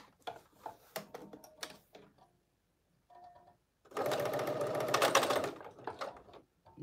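A Pfaff sewing machine runs a seam on a tee shirt. Scattered mechanical clicks come first, then a loud, steady whirring stitch burst lasting about two seconds, close by, with no voices.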